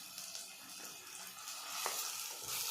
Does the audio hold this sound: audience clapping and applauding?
no